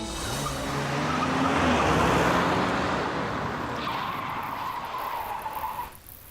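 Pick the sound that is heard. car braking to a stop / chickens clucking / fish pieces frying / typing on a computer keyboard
car braking to a stop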